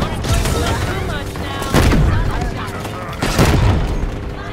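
Gunfire in the Halo video game: loud bursts and booming shots over a dense game soundscape, with two heavier blasts standing out, while players talk throughout.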